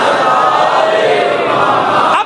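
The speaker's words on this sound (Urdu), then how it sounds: "اتنی بلند آواز سے ایک صلوات بھی عنایت فرما دیجئے محمد آل محمد۔" A congregation at a Muharram gathering in an imambargah loudly recites salawat together, a dense crowd of voices chanting in unison that cuts off abruptly at the end.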